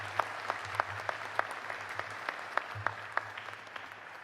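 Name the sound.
audience applause for honorary degree recipients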